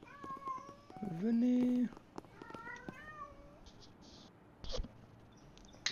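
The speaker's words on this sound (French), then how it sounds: "Ah, vous entendez un peu mon chat." A pet cat in an internet café simulator game meows several times, one long loud wail among shorter calls, mixed with clicking and a brief spoken word.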